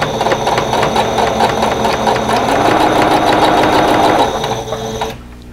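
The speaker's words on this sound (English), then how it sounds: "we'll sew these together in rows and then sew the rows together" Domestic sewing machine stitching quilt pieces together for a patchwork block, a steady rapid whir with fast needle clatter running continuously and close, then stopping abruptly near the end.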